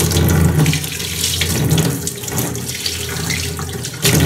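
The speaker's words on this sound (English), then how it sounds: "Get this rinsed out." Water running steadily from a tap while shampoo is rinsed out of hair, a loud continuous splashing rush with small fluctuations as the stream hits hair and hands, close up.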